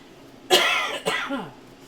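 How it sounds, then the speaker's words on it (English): Two or three rough coughs break out close to the microphone, the first loudest, followed by quieter hacking with a throat-clearing quality, over faint room hush. "I cannot stop coughing."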